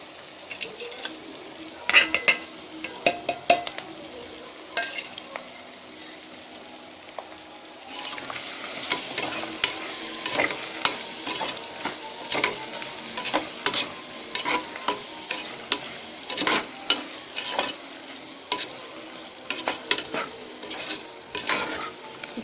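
Fresh mint and coriander leaves fry in oil for chana biryani, with a spoon scraping and clinking against the pan in a quick irregular rhythm over a close, steady sizzle that grows busier partway through.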